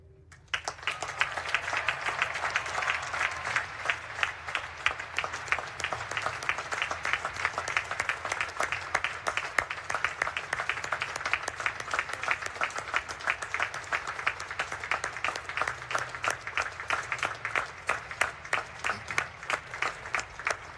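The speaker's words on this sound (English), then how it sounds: "acknowledge Taylor with a round of applause on this day to celebrate his life" A large crowd gives a long round of applause at a Naval Academy graduation ceremony, sustained rhythmic clapping that swells in quickly and continues evenly for about twenty seconds, heard from a moderate distance.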